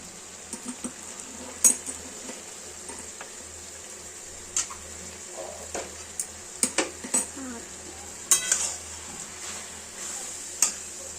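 Old-style bhangachora shukto vegetables fry in a pan as the last of the water cooks off, a steady soft sizzling hiss broken by scattered light clinks and taps of a utensil.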